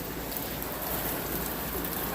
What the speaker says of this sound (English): It hasn't rained this hard here.